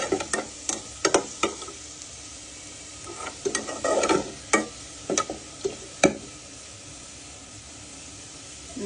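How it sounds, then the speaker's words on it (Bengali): Onion and garlic frying in oil in a pan with taro, sharp clicking stirs and scrapes of a spoon breaking up a soft sizzle, irregular bursts close by. "তেলের মধ্যে পেঁয়াজ রসুন দিয়ে ভালো করে ভেজে নিচ্ছি। এখন আমি মুখির ডালটা এর মধ্যে দিয়ে দিব।"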